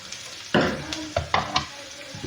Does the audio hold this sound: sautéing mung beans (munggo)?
yes